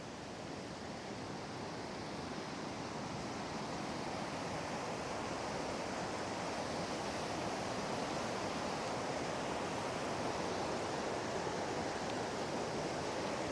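A river swollen with early spring runoff rushes toward a waterfall at Crooked Creek in New Brunswick, producing a constant, dense roar of water that holds steady and even throughout with no voices.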